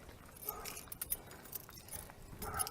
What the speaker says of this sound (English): Wrong set of keys, dummy.